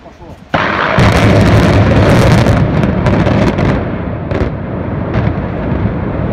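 An explosive demolition of a power plant cooling tower at the Siersza plant, set off with over 3000 charges: a sudden loud blast followed by a long, dense roar of collapsing structure that slowly tapers with scattered crackles.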